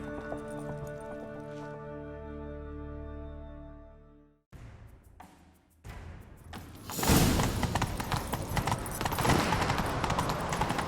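A horse galloping in The Witcher 3 video game: rapid hoofbeats pound in after a musical passage, building into a loud, continuous gallop mixed with game effects.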